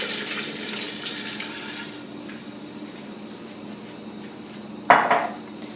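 Water runs into a cooking pot on a stove for a beef and mushroom stew, a steady rushing pour under kitchen room tone, ending in a brief metallic clank of the pot; no talking.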